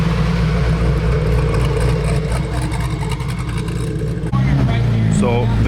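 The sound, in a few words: Hennessey Venom F5 hypercar engine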